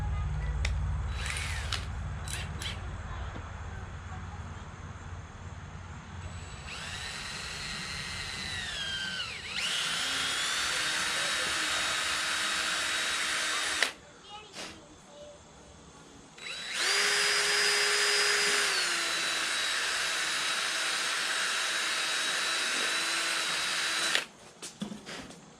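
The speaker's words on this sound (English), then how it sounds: "we gotta drill out the center there" A power drill whines at high speed in two long sustained runs, drilling out the center of a plastic barb fitting for a portable electric goat milker, pitch shifting as it bites, with quieter pauses and handling noise between.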